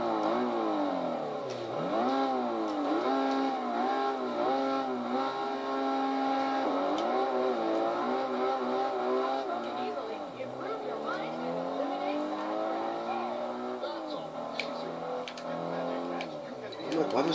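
Alfa Romeo MiTo hatchback engine in a Test Drive Unlimited 2 racing game, revving and shifting through gears with rising and falling whines, loud and continuous with a voice talking over it.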